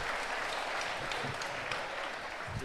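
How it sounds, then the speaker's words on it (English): Crowd applause for an Irish boxer at a Scotland versus Ireland amateur boxing international: steady, moderately faint clapping from an audience with no break. "give the applause for the from Ireland, Stokes"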